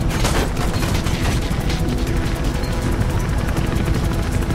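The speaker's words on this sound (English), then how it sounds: "Guys, stop shooting at me, please." Dense, continuous gunfire aimed at the player in the Mirror's Edge video game, a loud, steady rattle of overlapping shots filling the whole stretch with no pause.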